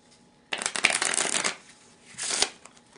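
A deck of playing cards is shuffled up close during a pick-a-number card trick: one long riffle burst, then a shorter second riffle, crisp and alone with no talk.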